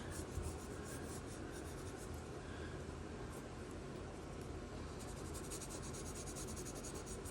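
A pencil shades on paper to fill in a value scale, a soft, continuous scratchy rubbing with quick back-and-forth strokes heard close and quiet for several seconds.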